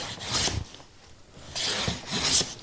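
Hand plane taking shavings off a wooden board, heard as two close, raspy strokes with a quiet pause between them.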